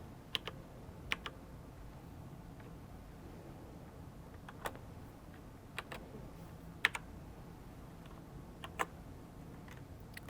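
Scattered keystrokes tapped on a computer keyboard while entering a PIN, a few sharp clicks spaced irregularly over a low steady room hiss, quiet and close.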